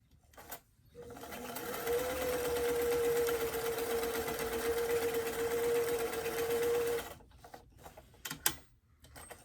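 A sewing machine stitches a hem along a doll's pants leg in one continuous whirring run of several seconds, starting and stopping with brief handling noises around it.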